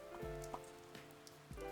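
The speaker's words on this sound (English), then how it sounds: "It's raining." Rain falls at night in the Persona 4 Arena Ultimax video game, a soft, steady patter with a faint sustained tonal background and a few light droplet ticks.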